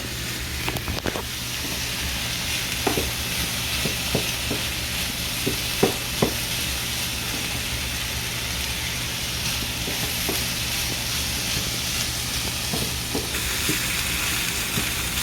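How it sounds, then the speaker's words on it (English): Shrimp stirred in a hot pan for shrimp and grits give off a constant loud sizzle close by, with occasional clacks of the utensil against the pan and no talking. "Now I'm just cooking my shrimp, stirring my shrimp up."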